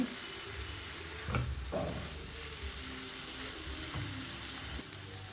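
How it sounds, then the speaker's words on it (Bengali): A pan of radish ghonto cooked with milk and lentil dumplings simmers with a soft, faint sizzle while a spoon scrapes and stirs it, giving a few light knocks close by. "ঘন ঘন নেড়ে দিতে হবে যাতে তলায় না ধরে যায় কারণ এখানে দুধ দেওয়া আছে"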